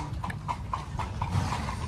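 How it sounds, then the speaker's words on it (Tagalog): A horse pulls a carriage through Salzburg's historic town, its hooves clip-clopping in a steady, even rhythm at close range over a constant low rumble. "Yan, kabayo po"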